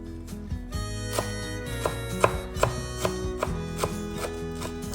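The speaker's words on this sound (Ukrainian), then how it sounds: "Також я натираю один зубчик чеснику і нарізаю ще петрушки." A knife taps rhythmically on a cutting board, chopping parsley in a steady series of sharp knocks over soft background music.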